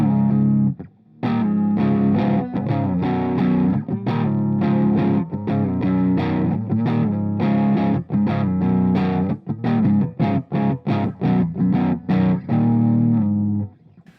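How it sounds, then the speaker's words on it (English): A distorted electric guitar plays a heavy, chugging riff that grows more choppy and staccato toward the end, loud and up close. "the harder you play, you can hear the distortion come in and out"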